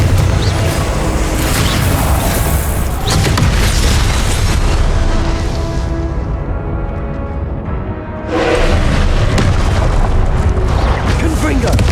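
A blast from the Confringo fire spell in the Hogwarts Legacy video game erupts with heavy booms and crashing impacts inside a loud, thick wall of game sound. The noise drops away briefly partway through, then surges back.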